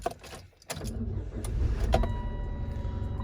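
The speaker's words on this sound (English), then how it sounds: "and then start the car up" A Saturn Vue with a replacement 2.2 engine and manual clutch starts up: a sudden burst of cranking catches into a steady, loud, close engine rumble that holds to the end, with no talking.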